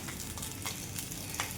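Fish head frying in oil with spices, a steady crackling sizzle with faint stirring scrapes, soft and continuous for under two seconds, no voices.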